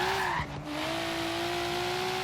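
Rear tires of a Volvo 850R spinning in Forza Horizon 3, a steady engine drone with a sustained tire squeal, close and continuous after a brief dip.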